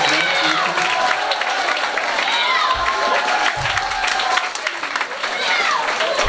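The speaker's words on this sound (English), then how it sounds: "Please give them a round of applause." A high school sports awards crowd applauds the athletic boosters, clapping and cheering continuously with scattered shouts and voices mixed in, loud and sustained throughout.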